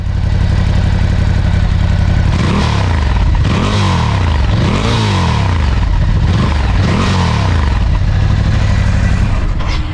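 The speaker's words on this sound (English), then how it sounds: "Easily the best sounding bike in the Scrambler lineup." A Ducati Scrambler motorcycle engine with a deep, bassy, rich tone, idling loud and close, then revved several times in rising and falling surges before settling back to idle.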